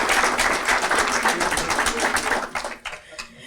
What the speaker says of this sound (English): Let's give Bonzel Family School a round of applause